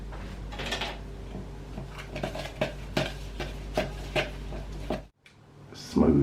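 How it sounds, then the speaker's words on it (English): Bird's custard powder is stirred with milk into a paste, a spoon knocking and scraping rhythmically against a bowl in a series of close, sharp clinks over a low steady hum. "So you mix it into a smooth paste."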